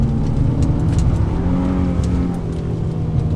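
A 2003 Infiniti G35 sedan with a five-speed automatic pulling hard in second gear on a mountain highway, its engine a loud, continuous rising drone heard from inside the cabin.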